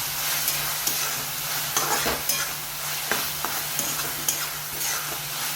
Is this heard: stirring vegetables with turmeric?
yes